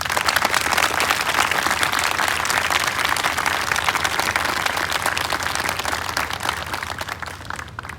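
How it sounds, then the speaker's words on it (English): Full, sustained audience applause at the Miss Amery 2022 coronation, a loud dense roar of clapping from a large crowd that holds steady and then tapers slightly at the end. "let us show our appreciation for these ladies with another round of applause"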